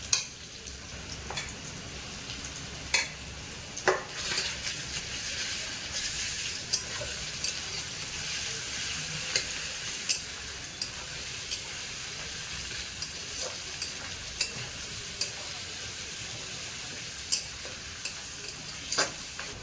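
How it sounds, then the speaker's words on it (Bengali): Garlic fries in a pan with onion and potato, giving a soft, steady sizzle close by, broken by frequent sharp clicks and taps of stirring, with no talking. "রসুন ভালো ভাজা ভাজা হয়ে গিয়েছে কাঁচা গন্ধ চলে গেছে"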